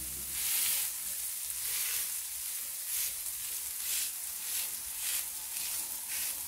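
Broccoli sizzles in oil on a tawa, a soft steady hiss that swells gently at intervals, close and unbroken, with no voices.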